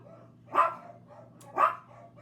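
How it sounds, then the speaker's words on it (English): A dog barks twice about a second apart, each a short, sharp bark at moderate distance over faint background hum, with no talking. "Ay, dogs."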